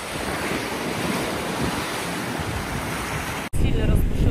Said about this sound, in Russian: Сильно разбушевалось у нас море.